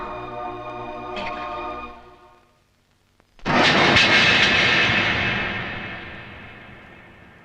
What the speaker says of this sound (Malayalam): ലേഹയുടെ ഫ്ലൈറ്റ് ഇപ്പൊ പോയി കാണും അല്ലേ?